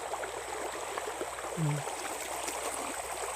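A river rushes steadily and broadly, with a brief low gurgle partway through and no voices.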